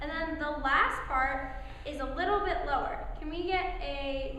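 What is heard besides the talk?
No everyday noise stands out behind the speech.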